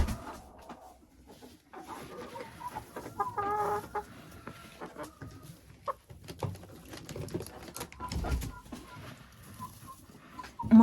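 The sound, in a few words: hens clucking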